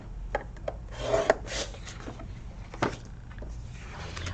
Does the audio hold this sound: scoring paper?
yes